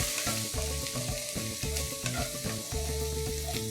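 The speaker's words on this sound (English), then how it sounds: "Saute this for a minute." Ginger-garlic paste sizzles and fries in a kadai with asafoetida, a steady close hiss broken by regular rhythmic stirring strokes, with no voices.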